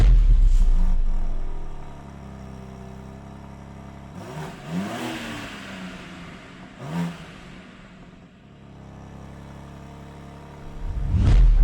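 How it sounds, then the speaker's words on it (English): A 2024 BMW M2 coupe engine revs in bursts: a loud start-up roar, two sharp blips of throttle mid-clip, and a final rising rev, with a steady idle rumble between them and no talk. "So we're gonna start this thing up, see how it sounds, see if it rumbles"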